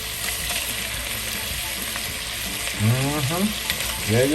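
Diced potatoes hit hot Crisco shortening and start frying, bringing a loud, steady sizzle with stirring clatter and bursts of bubbling as the pieces drop in, heard up close.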